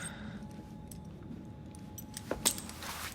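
A brief metallic jingle of keys handed over in Assassin's Creed: Syndicate, two quick clinks near the end over a low steady game ambience, with no talk.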